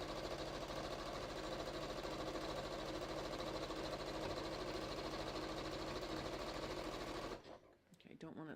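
Electric sewing machine running steadily as it stitches the final seam of a handmade gift, a loud continuous motor whir for about seven seconds before it stops and a voice speaks.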